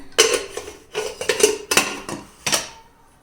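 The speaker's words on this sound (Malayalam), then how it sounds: "അപ്പോൾ ഇനി നമുക്ക് കുക്കർ അടയ്ക്കാം." A few sharp metallic clanks and clatters as a pressure cooker lid is set and locked in place for cooking dal, close by with brief pauses between.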